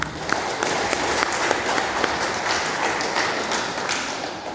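Steady, dense applause from a church congregation fills the whole stretch at a Maranatha Simalingkar GKPI celebration for the women's, fathers' and elderly groups, with a few sharper individual claps poking through the continuous wash.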